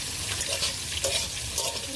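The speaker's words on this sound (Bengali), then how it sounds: "ওর মধ্যে একটু মশলা ছড়িয়ে দিয়ে লাভিয়ে নেব এই মশলা একটু ছড়িয়ে দিচ্ছি" Fried potatoes sprinkled with spice paste are stirred in a pan, with a steady sizzle and a few scraping strokes of the spoon, close and moderately loud.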